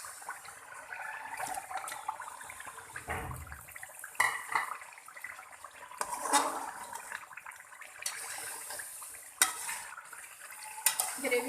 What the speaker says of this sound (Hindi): चिकन हम भून रहे हैं